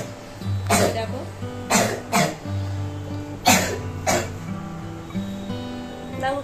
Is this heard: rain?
no